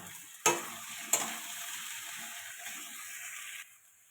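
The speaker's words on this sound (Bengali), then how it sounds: "লঙ্কার গুঁড়ো দিয়ে দিলাম, এটা ভালো করে কষাতে থাকবো।" Okra curry with chili powder being sautéed in a pan, a steady close sizzle with two sharp clanks of a utensil early on before the frying hiss drops lower near the end.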